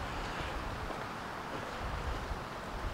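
Wind gusting steadily near a castle and gorge in a Spanish village, a continuous broad rushing roar buffeting the microphone.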